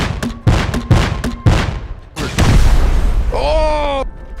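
A C4 charge detonates with a heavy boom in the survival game Rust, loud and close, amid excited voices of players talking over one another and a brief whistling, warbling tone near the end.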